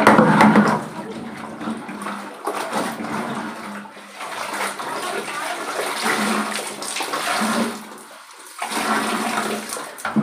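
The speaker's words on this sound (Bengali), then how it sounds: "নাইটিটা ধুয়ে নিই" A nightie is washed by hand in water, with continuous close splashing and running water that rises and falls as the cloth is rinsed and wrung.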